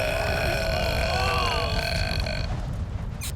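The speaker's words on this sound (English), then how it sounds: "You call that pathetic sound a burp?" A long, drawn-out cartoon burp in a contest between Smurfs in their village, sounding as a loud, continuous tonal belch with wavering pitch that lasts about three seconds before trailing off.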